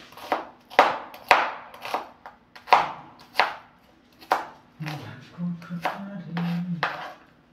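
A knife chopping onion into thick pieces on a board, about a dozen sharp, close, irregular thuds, with a low hum and a brief voice near the end.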